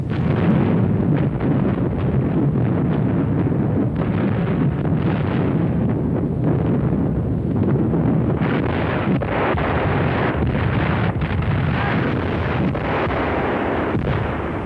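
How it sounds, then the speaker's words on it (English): German 20mm and 88mm FlaK anti-aircraft guns fire a dense barrage against attacking aircraft over a port. Booms and bursts come thick and loud, heavily roughened by wind buffeting on the microphone, with no voices. "20mm and 88mm FlaK guns provide a heavy barrage"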